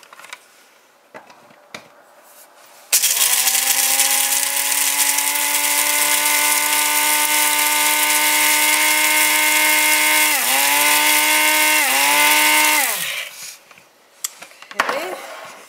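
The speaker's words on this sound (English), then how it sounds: "I'm going to put in my little nut grinder here and just grind it up." A small electric nut grinder whirs loudly as it grinds coffee beans, a steady high buzz lasting about ten seconds with two brief dips in pitch before winding down, framed by quiet handling clicks.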